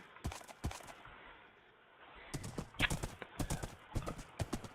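Rhythmic clip-clop of horse hooves trotting along in Minecraft, steady and fairly close, with no talking.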